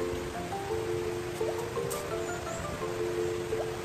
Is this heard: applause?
no